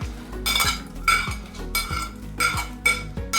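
Sweet potatoes are tossed in a hot pan, with a utensil clinking and scraping against the metal in about six rhythmic strokes, close and fairly loud, with no talking.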